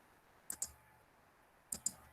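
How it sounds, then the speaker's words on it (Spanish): A computer mouse gives two quick double clicks, one pair near the start and another about a second later, crisp and close against a quiet background. "Doble clic"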